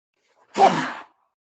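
A single short, breathy sneeze, close and fairly loud, with silence before and after.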